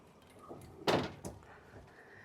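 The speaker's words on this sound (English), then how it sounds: "Open the door." A single door opens with a short scraping thud midway, followed by softer creaks and rustles in a quiet room.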